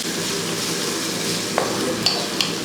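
Green chillies fry in a pan for a green gram curry, a steady close sizzle with a few light clicks of a spoon stirring against the pan near the end.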